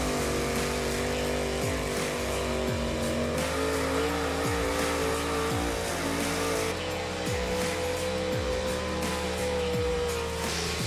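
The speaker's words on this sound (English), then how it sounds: "we're kicking off the show here today with the small block high output four-wheel drive trucks" Small block high output four-wheel drive pulling truck at an outlaw truck and tractor pull, its engine roaring loud and steady for the whole stretch with repeated rev surges and gear-like pitch climbs, no talk over it.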